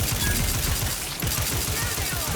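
Rapid gunfire from The Outer Worlds 2, a steady stream of repeated low shots filling the whole moment at close range, with no pauses.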